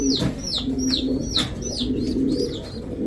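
Racer pigeons at the nest, where a hen sits on eggs, give repeated soft close cooing phrases in a rhythmic series, with some light chirps.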